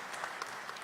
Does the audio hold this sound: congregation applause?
yes